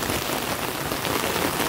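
Steady, loud rain falls on an orchard where saplings are being planted, a dense continuous patter with no voices.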